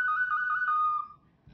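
A handmade clay whistle blown in one sustained, clear tone that wavers slightly as a finger moves over the hole, close and bright, ending after about a second with a brief soft noise.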